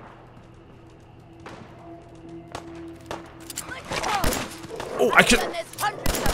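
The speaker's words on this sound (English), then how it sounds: "I hear gunshots." Gunfire from raiders in Fallout 4 crackles in rapid bursts at mid distance, sparse shots building into a dense volley, while a player voice speaks over it.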